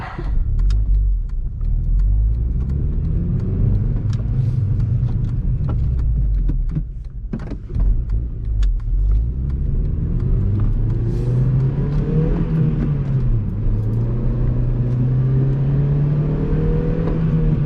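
A 2010 Honda Civic LX-S manual with 202,000 miles drones steadily under load, with pitch dips and quick blips as the driver heel-toe downshifts, then the revs climb smoothly again.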